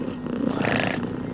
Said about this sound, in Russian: Мурлычет.